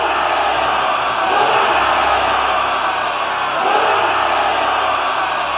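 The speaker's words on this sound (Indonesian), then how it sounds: "Sorakan mulai menggema." A large crowd of warriors roars and cheers after a battle victory, a dense, loud, sustained wall of voices that swells twice, with no single voice standing out.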